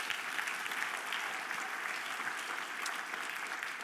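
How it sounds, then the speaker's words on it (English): Steady applause from a conference audience at an annual meeting, dense and continuous clapping filling the whole stretch without pause. "Round of applause."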